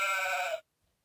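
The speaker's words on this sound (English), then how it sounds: "The sheep has wool that keeps it warm." A single sheep bleat, loud and close, lasting about half a second with a strong harmonic tone before cutting off into silence.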